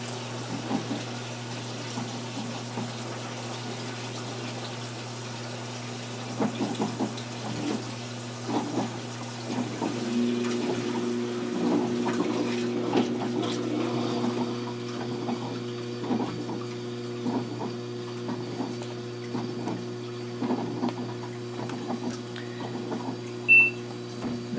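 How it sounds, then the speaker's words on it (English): An LG top load washer in service test mode runs its drain pump and agitates, giving a steady low mechanical hum with rising, sloshing churn and periodic thumps, moderately loud and continuous with no talking. "The next step is going to be the drain pump and agitate."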